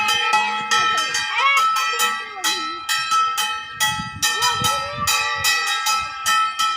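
A bell is struck again and again in a quick, steady rhythm, each clang ringing bright and close while voices sing or chant alongside.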